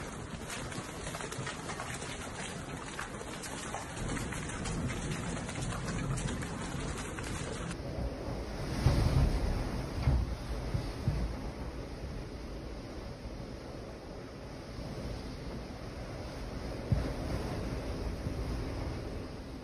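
Heavy storm rain and sea waves in Sicily during a sudden, violent Mediterranean storm, a steady dense hiss of rain mixed with surging surf and wind, with a few louder gusts or wave crashes along the way.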